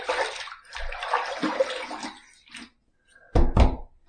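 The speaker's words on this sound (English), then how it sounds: "Let me just wet the face here, and we'll do our pre-shave lather." Water splashing at a sink as the face is wetted before a wet shave, a run of cupped-hand splashes followed by a pause and two sharp louder splashes at the end.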